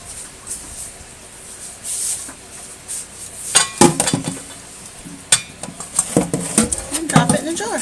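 A knife quarters a tomato in a home kitchen, giving a run of sharp taps and clinks against a board and utensils, sparse at first and then quicker and louder toward the end.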